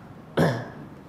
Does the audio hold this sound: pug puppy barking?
no